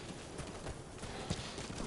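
Horse hooves trotting in the video game Metal Gear Solid 5, a quick rhythmic clip-clop of hoofbeats at moderate loudness over a steady ambient background.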